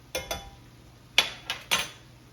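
Brown sugar being stirred into sloppy joe mixture in a pot, heard as about five separate clinks and scrapes of a utensil against the pot, fairly close, with nothing else in between.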